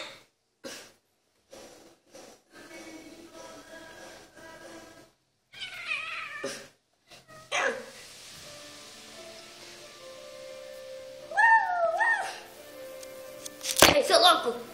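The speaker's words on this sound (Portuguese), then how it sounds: "Esse é um gatinho da minha irmã" A cat meowing indoors, several scattered, loud, drawn-out meows and caterwauls separated by quiet gaps, ending in a sharper cry near the end.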